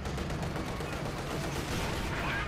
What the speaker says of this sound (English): Now the T-35 blown to tiny bits